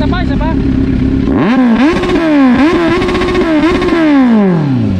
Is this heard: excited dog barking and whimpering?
no